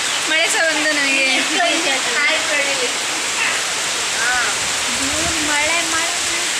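Heavy rain pours down in a loud, unbroken roar while voices talk over it.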